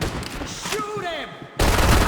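Gunfire erupts in a shooting sequence from Max Payne 3: loud, rapid bursts of shots, a short lull with a whooshing sweep, then another heavy volley close up.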